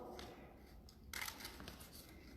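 Scissors snip through paper sheets during a children's 3D optical art craft class, a quiet rustle giving way to a denser stretch of crisp, close cutting and paper handling.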